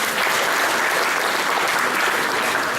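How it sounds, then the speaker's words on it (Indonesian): Applause from a seminar audience during a live-streamed event in Purwokerto, a dense, steady wash of many hands clapping at once, loud and unbroken for the full stretch without voices on top. "Tepuk tangan dulu untuk Purwokerto TV"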